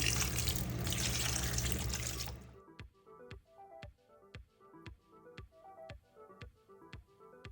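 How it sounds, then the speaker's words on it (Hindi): Cold water running over cooked pasta in a kitchen: a loud, steady rush of tap water for a couple of seconds, then it stops and regular dripping and trickling follows with soft, evenly spaced drops. "ये ठंडे पानी से मैं एक बार पास्ता गुजार लूँगी।"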